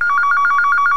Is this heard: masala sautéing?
no